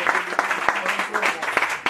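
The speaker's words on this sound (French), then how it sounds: "applaudissez pour l'intro," A crowd applauds for a song's intro at a listening session for a DJ track, with uneven clapping mixed under a speaking voice throughout the short stretch.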